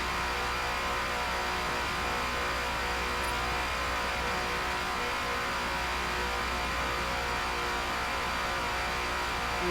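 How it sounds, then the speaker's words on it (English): Ford Falcon FG X race car (#17) in Forza Motorsport at Daytona, its engine holding a steady, loud drone throughout with a slight dip in pitch and no talk. "And I can hear the engine pitch dropping just a little bit."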